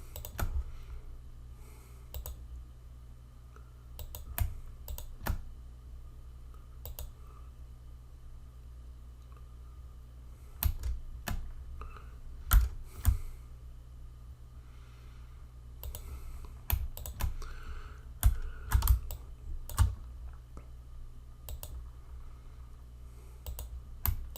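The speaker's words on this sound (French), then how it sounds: "j'appuie sur CTRL, je clique à l'extérieur" Sharp mouse clicks and keyboard key presses at a computer during drawing work, scattered irregular taps over a low steady hum, close and fairly faint, with no talking.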